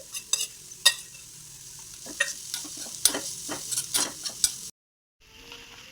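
Paneer hits a hot pan and fries with a steady sizzle, broken by scattered clicks and scrapes of stirring, then cuts to near silence at the end.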